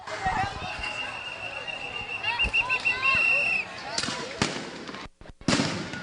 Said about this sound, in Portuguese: Eles atiram fogos de artifício e também pedras.